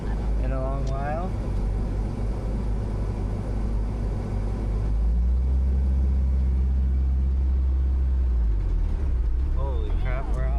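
A 1987 Nissan D21 pickup truck, long out of service, drives with a steady, close, low engine rumble and road drone throughout. Brief voices talk near the start and the end.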